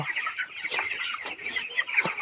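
Broiler chickens, 21 days old, cluck on a poultry farm, a dense chorus of short repeated calls at moderate distance with no voices.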